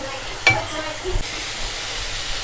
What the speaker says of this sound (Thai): น้ำมันหอยครับ ผัดไปเลยครับ เราจะเอาตับสุกนะครับวันนี้